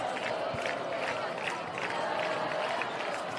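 Steady roar of a high school football crowd in the stands at Martinsville, a dense continuous murmur of many voices with scattered shouts, loud and sustained throughout.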